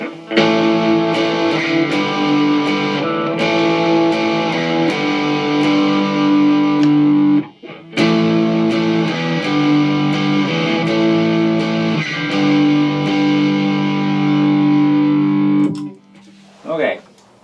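Fender Stratocaster electric guitar played through distortion, a thick sustained riff of ringing chords and notes running steadily and loud, with a brief break midway and a short fade and scrape at the end.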